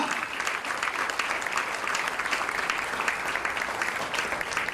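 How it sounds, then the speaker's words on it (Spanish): A church congregation claps loudly and continuously, a dense, even wash of applause with no letup. "dale un fuerte aplauso al Rey"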